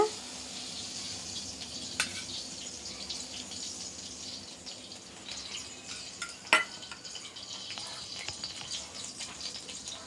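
Oil added to a hot pan while making pudina pachadi, a steady close hiss of frying with two sharp clinks of utensils against the pan, no voices.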